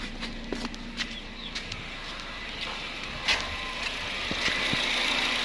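A used car's engine idles steadily with the hood open, a low constant rumble, faint clicks and a bird chirping now and then in the background.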